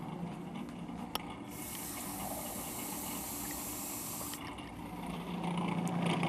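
Water pours into the feed tube of a Cuisinart Elite 14-cup food processor while dough is being mixed, a steady hissing splash lasting a few seconds over a continuous background, with no talking.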